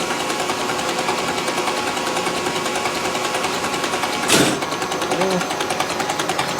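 A diesel engine cranks on a Monaco Dynasty motorhome, a steady rapid rhythmic starter chug held for several seconds, with a short louder burst partway through.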